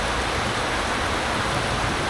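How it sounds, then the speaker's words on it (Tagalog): Dense, steady hiss of heavy rain pouring down continuously, loud and close, with no voices over it. "Walang tigil ng ulan sa aking pagkakas."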